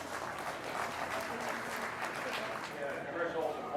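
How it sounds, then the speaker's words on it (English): Applause at a beef cattle show for a young exhibitor with her heifer, a steady round of clapping from an indoor crowd with voices mixed in, lasting the whole stretch and swelling slightly near the end. "Let's give this young lady a round of applause."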